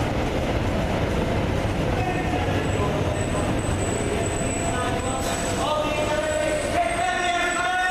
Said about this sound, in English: There's a train coming. Let's film this train arriving.